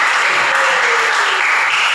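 Steady, dense applause from a room full of people clapping for two student groups, sustained evenly for the whole stretch with no voices on top.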